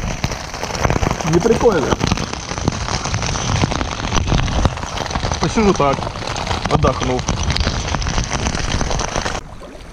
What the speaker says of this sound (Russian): Вон град прошел.